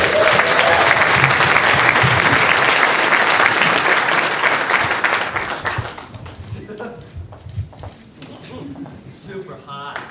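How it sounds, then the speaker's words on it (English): A comic convention panel audience in New York breaks into loud, dense applause with cheers that fades after about six seconds into scattered claps and murmuring crowd noise. "Let's hear it for Olivia Thirlby."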